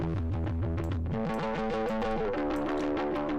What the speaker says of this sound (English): I actually started with the red light distortion plugin that comes standard with Studio One.